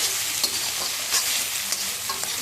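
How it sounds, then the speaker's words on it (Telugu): Egg tomato curry fries in a pan with a constant close hiss of sizzling oil, a few soft stirring scrapes punctuating it, no voices. "బాగా ఫ్రై చేసుకోవాలి మనం."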